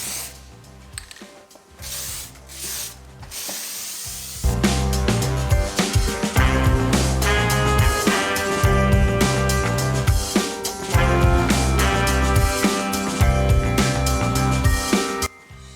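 Clear coat paint is sprayed from a spray can onto a Ford FG Falcon Barra engine rocker cover in short hissing bursts, then a longer stretch of close rattling and spraying that continues to the end.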